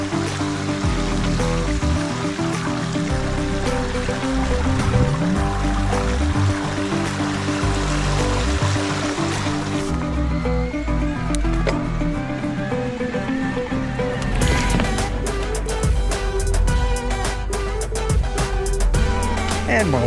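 Mountain bike tires splash and churn through deep standing water on a flooded, swampy Florida trail. The rushing water is loud and continuous, with a sharper burst of spray near the end.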